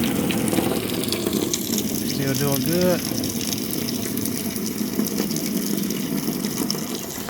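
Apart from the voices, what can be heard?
water filling a container from a tap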